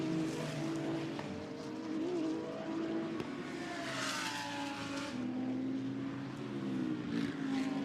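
An Audi GT race car in the Fanatec GT Europe series passes on the track at Brands Hatch, its engine note rising and falling at a distance over a steady background roar, with no talk.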